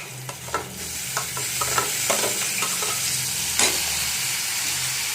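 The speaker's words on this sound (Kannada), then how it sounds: "ಇದನ್ನ ಟಮಾಟೆ ಮೆತ್ತಗಾಗಂಟ ಹುರ್ಕೋಬೇಕು ಎಣ್ಣೆಗೆ." Chopped tomato fries in oil with curry leaves in a pan: a constant bright sizzle runs throughout, broken by repeated scraping stirring strokes close up, with no voices.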